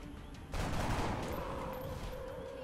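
A burst of automatic gunfire in the video game XCOM Enemy Within erupts abruptly after a brief lull and rattles loudly for a moment before fading into a lingering ring.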